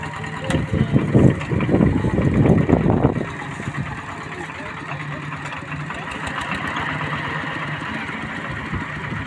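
Tractor engine running at a Lao rice-threshing site, a loud rough mechanical chugging for about three seconds that then drops to a steadier, quieter idle hum with background activity.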